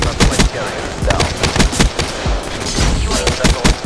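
Rapid, loud gunfire from an MX Garand rifle in the Black Ops 3 shooter game, sharp repeated shots in quick bursts throughout, layered with other battle noise.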